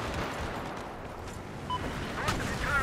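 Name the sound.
building collapsing in Battlefield 4 video game, Hainan Resort map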